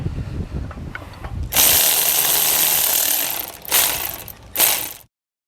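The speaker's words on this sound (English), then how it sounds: "Thread on our nut here. And we'll just tighten it down." A nut is tightened on a Brophy rigid-mount spare tire carrier with a ratcheting tool: a loud, steady mechanical whir that runs for a few seconds, then two shorter bursts close to the microphone.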